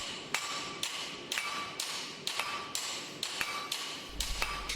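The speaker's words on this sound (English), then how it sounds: "his hammer blows slow" Hammer blows ring out on hot metal at a blacksmithing contest, a steady series of about ten sharp metallic strikes at a regular pace, each one clear and close.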